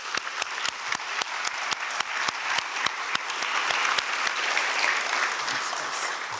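Audience applause at a Yom HaShoah remembrance event for award recipients, steady clapping with distinct close claps over a softer crowd wash, moderately quiet and fading slightly toward the end.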